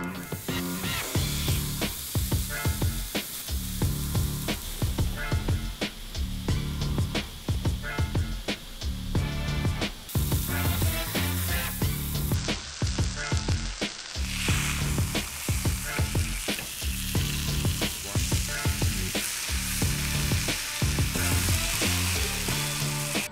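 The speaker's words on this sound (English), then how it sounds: "we're gonna toast the bread with a little bit of butter" Bread toasting in butter in a pan for homemade burgers gives a steady, loud sizzle and crackle with bursts of spitting fat, continuous throughout and alone.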